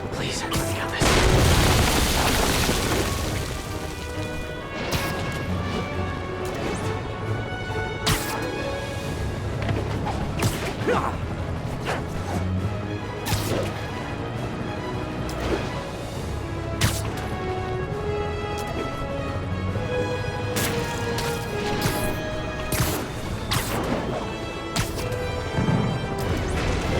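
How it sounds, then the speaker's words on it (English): Crashes and booming impacts from a helicopter swinging a wrecking ball at a construction site in the Marvel's Spider-Man PlayStation 4 game, a loud burst early then repeated sharp smashes over a continuous busy game mix. "I'm getting reports of a helicopter with a wrecking ball?"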